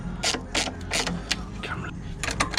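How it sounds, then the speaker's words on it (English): 13mm spanner ratcheting on an exhaust bolt of a KTM SuperDuke 1290, heard as a close, quick series of clicking ratchet strokes in irregular bursts. "13mm spanner on the back of this"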